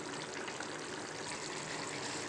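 Jackfruit curry simmers in a pot with a soft, steady bubbling hiss, faint and continuous, close by with no talking.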